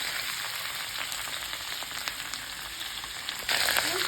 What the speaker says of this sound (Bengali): আপনারা যখন ভাজবেন এটা এরকম গোটা গোটাই ভাজবেন।